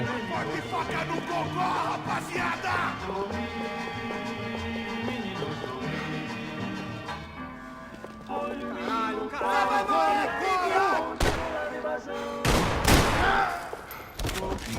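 Max Payne 3 on PC, with gunfire cracking loudly in scattered shots and short volleys toward the end, layered over a dense, tonal game score and background commotion.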